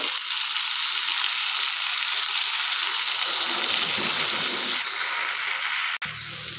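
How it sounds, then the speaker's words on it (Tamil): Two tomatoes sauté in a pan with a loud, even hiss of frying that cuts off abruptly near the end and drops to a softer sizzle; no speech. "இப்போ தக்காளி 2 தக்காளி போட்டு நல்லா வதக்கிங்க."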